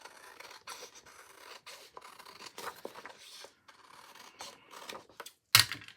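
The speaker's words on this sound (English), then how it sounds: "Let's cut some of this. Let's trim this." Scissors snip and trim paper for a planner in a series of short, close, rubbing cuts with brief pauses, finishing with one sharper, louder snap near the end; no talking.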